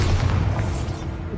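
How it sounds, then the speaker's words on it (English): Bombarda spell in Hogwarts Legacy going off as a deep, rumbling boom that fills the whole short moment before easing off. "Bombarda!"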